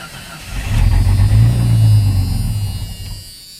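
A 1989 Jeep Cherokee engine with aftermarket exhaust turns over and settles into a deep, steady exhaust rumble, swelling loud for a couple of seconds before easing off, heard up close with no talking.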